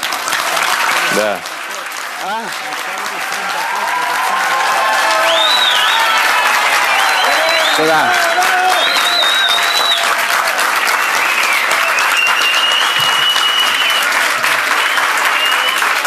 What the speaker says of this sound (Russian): себе вы хорошо хлопаете, аплодируете